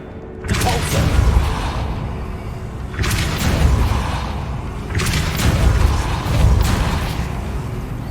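The Depulso spell goes off three times in the video game Hogwarts Legacy, each cast a heavy booming blast with a rushing, whooshing tail, spaced a few seconds apart and loud up front.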